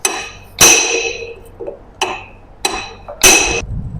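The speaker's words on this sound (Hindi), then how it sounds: "इसके अंदर क्या करना, आपको इस तरीके से यहाँ से चोटें मारनी है।" A bearing is hammered tightly into the handle of a Montra electric auto-rickshaw, five sharp metallic blows at uneven intervals, each ringing briefly before fading.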